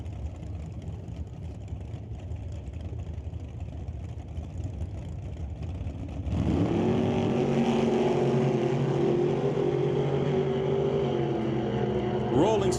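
At a drag strip, a 1967 Nova and the Evil Bucket Roadster, a 1934 roadster, idle with a low rumble, then launch together into loud, sustained, rising engine roar that carries to the end of the run.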